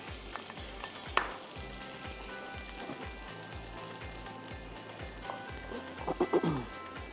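Butter sizzling as it melts in a pan, a steady soft crackle with a brief louder burst of stirring near the end.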